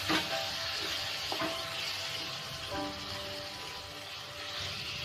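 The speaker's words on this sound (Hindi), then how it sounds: "हम इसमें डालेंगे सॉस, पिज़्ज़ा सॉस जो हमने पहले रेडी किया था, और इसे वेजिटेबल्स के साथ मिक्स कर देंगे।" Pizza sauce being stirred into frying vegetables in a pan, a steady sizzle with occasional spoon scrapes and clinks, close and moderately loud, no voices.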